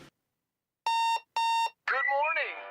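A radio ad's alarm clock rings out in two crisp electronic beep bursts, then a bright chiming melody follows, clean and close for a Hardee's 2 for $5 breakfast promo.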